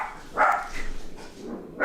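Several dogs bark indoors in short separate bursts, a couple of loud close yaps spaced apart with quieter barks between.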